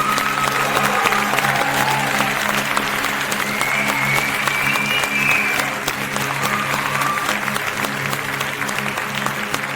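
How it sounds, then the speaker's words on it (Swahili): Sustained applause from a church television audience, dense and steady throughout, with faint tonal music or voices riding above the clapping. "Tunapiga makofi kwa ajili ya"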